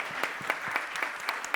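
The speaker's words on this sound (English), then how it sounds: "deserves a big round of applause for that" Audience at a healthcare nutrition education talk applauding, with steady, moderately dense clapping from many hands across the whole brief stretch.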